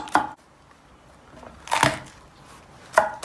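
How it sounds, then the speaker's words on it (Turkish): A knife chopping ingredients finely on a board for a one-pot meatball and potato dish, with three separate sharp cuts spaced over about three seconds and quiet pauses between them. "Bütün malzemeyi ince ince sırayıp şekilde doğrayacağız."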